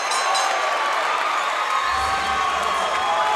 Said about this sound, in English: The crowd's getting on their feet to count down to the final few seconds.